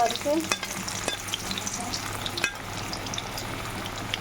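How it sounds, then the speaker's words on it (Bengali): Cut, washed potatoes frying in hot oil in a pan, a steady close sizzle with scattered scraping stirs and clinks throughout, no talking. "এবার যে আলুটা কেটে আমি ধুয়ে রেখেছিলাম সেই আলুটা এখন এর মধ্যে ছেড়ে দিচ্ছি দেখো তো আলুটা একটু লাল লাল করে ভেজে নেবো"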